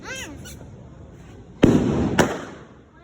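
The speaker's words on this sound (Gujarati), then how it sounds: "ફટાકડા ફોડવા, કોઠી ફોડવા" Firecrackers and fountain fireworks go off at a festive family gathering: a steady crackling hiss runs throughout, then two sharp, loud bangs burst out close by, the second landing about half a second after the first.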